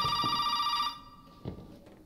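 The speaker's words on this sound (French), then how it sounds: "Le téléphone, le téléphone." A telephone rings in the video game Resident Evil 7: a loud, steady electronic ring holds for just under a second, then cuts off, leaving a quiet room with a faint thud.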